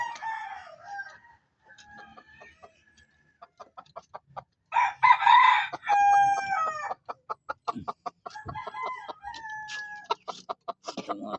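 Several roosters crow loudly and close by, with bursts of clucking and rapid pecking-like taps between the calls, no voices heard.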